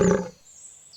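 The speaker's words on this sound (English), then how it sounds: "Leo the lion loves to roar, big and strong we all adore." A cartoon lion gives a short, loud roar that cuts off abruptly, leaving near silence with a faint high tone behind it.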